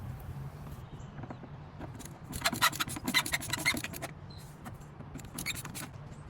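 A Phillips or flathead screwdriver loosens a hose clamp on the air intake of a 2006 Mitsubishi Eclipse 2.4L, giving short scraping, ratcheting scratches in quick bursts, near and fairly quiet, with no talk.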